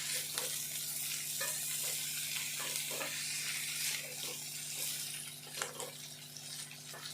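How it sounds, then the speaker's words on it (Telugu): Dried fish sizzles and fries in hot oil in a pan for a dried fish and ivy gourd curry, a steady crackling hiss with occasional stirring scrapes and clinks, close and continuous, with a low hum beneath. "ఇవి కూడా మంచిగా కొద్దిసేపు మంచిగా ఫ్రై కావాలి ఈ నూనెలో."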